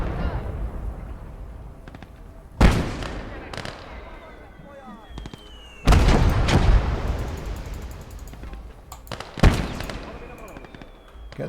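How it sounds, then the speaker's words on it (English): Heavy exchange of gunfire and artillery in the war video game Motherland: three big booming blasts with long rumbling decays, scattered cracking shots and whistling between them, loud and near. "we've got some exchange of fire here."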